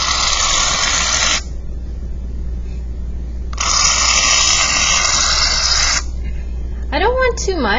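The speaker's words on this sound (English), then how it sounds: "in both of these cups, I'm going to spray shaving cream" Shaving cream hisses from an aerosol can into cups in two long sprays, loud and close, separated by a pause, with a brief voice at the end.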